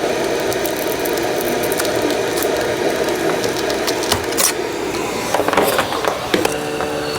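Continuous grinding, creaking scrape of adhesive being pried off an MSI GE76 Raider laptop back cover, dense and close, with a few sharper cracks and ticks toward the end.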